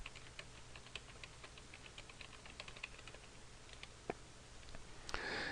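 Fingers type steadily on a computer keyboard while working in Excel 2010, a close, quiet patter of key clicks with one sharper click near the end, no voices.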